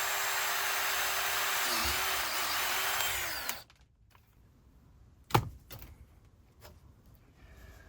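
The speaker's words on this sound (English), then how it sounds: "We're going to go ahead and re-drill our hole." A power drill re-drills a hole for an A/C drain line cleaner installation, running steadily and loud for about three and a half seconds, then stopping, followed by a few sharp knocks and faint handling sounds.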